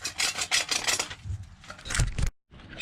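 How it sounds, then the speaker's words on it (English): A hydraulic cement surface in a basement drain repair being scuffed up by hand, a rapid rhythmic rasping scrape repeated in close strokes, stopping briefly before resuming. "I'm not cutting it all the way through, I'm just scuffing it up."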